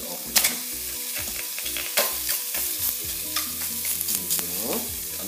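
Two salted and peppered pork neck chops frying in a pan with no fat, giving a steady close sizzle with repeated scraping and stirring clicks of a fork against the pan.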